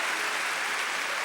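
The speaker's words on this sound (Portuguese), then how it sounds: "Podemos aplaudi-lo, podemos honrá-lo" Applause from a church congregation during a sermon, a steady dense wash of clapping filling the whole moment at moderate level with no voices over it.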